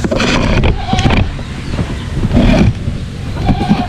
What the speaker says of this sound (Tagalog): Lakas na apoy natin